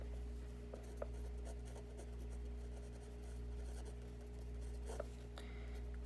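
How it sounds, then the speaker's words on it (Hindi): Pen writing a maths solution set on paper, a faint scratching with occasional light taps over a steady low electrical hum; no one speaks. "तो यहाँ पे हम लिख देते हैं सॉल्यूशन सेट।"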